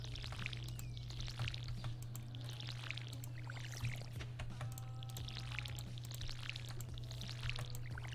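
Water pours from a watering can onto crops in Stardew Valley, a game sound of repeated short splashing bursts at an even rhythm over a steady low hum.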